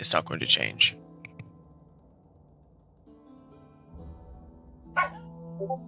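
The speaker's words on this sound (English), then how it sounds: "I'm not sure if you heard that, but that was my dog." A pet dog barks a few quick sharp times at the start, followed by a quieter short bark later, while someone talks at his computer.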